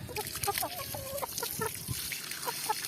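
Several chickens cluck softly close by in short, scattered bursts, with faint background noise and no talking.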